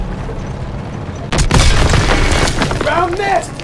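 A tank cannon fires in the World War II shooter Call of Duty WWII during a fight with a Panzer: one sudden loud boom followed by a long rolling rumble, with shouted voices afterward.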